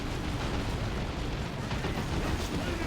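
An artillery tower fires in a Dawn of War 2 3v3 battle, with a dense, continuous roar of blasts and rumbling explosions, heavy and steady throughout.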